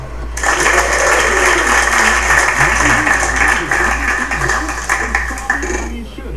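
A studio audience at a game show bursts into sustained, loud applause and cheering that holds steady for several seconds before trailing off at the end.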